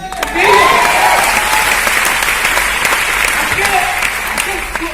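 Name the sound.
audience applause at a training event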